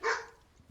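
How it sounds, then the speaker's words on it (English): A dog barks a couple of times indoors, short and fairly close, then quiet background follows. "Oh, my dog's barking."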